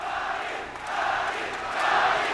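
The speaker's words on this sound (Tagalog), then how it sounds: "And listen to that crowd" Boxing arena crowd roaring and cheering after a knockout in a Manny Pacquiao bout, a loud sustained wall of voices that swells twice without a break.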